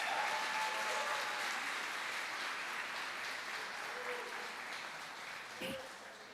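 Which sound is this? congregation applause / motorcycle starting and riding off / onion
congregation applause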